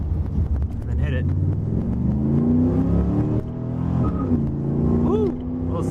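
Pontiac Firebird with a Magnaflow exhaust pulling away hard on a street, engine rising in pitch through the gears with a brief tyre chirp in second, loud and close, with people talking over it.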